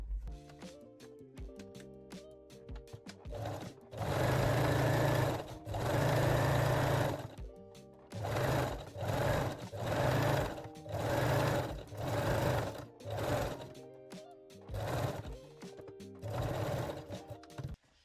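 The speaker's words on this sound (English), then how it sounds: "set your machine to zigzag or 3-step zigzag stitch and let's go. So I'm starting with the side seams" A sewing machine runs a zigzag stitch over elastic along the side seams of a bralette, whirring in a series of steady, loud bursts separated by short pauses.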